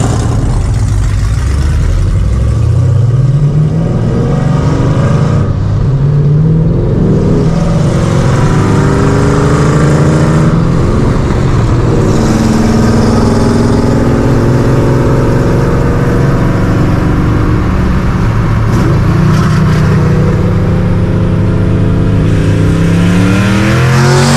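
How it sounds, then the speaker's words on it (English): A loud, raw Camaro engine with an open exhaust revs and roars continuously with rising and falling pitch, harsh and unmuffled, close by. "That thing sounds like a NASCAR with no X-Pipe."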